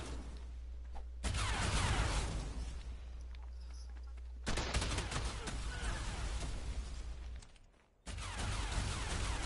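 Turrets firing in a shooter video game, long dense barrages of rapid shots in loud bursts separated by abrupt cuts, with little talk.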